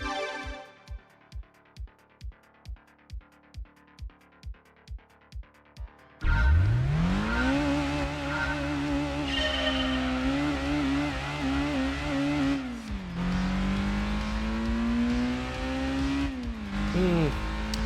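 Engine note of a car in Gran Turismo 2 on the test course: a run of evenly spaced rhythmic pulses, then a loud sustained engine roar climbing and falling in pitch through gear changes, with a brief dip partway.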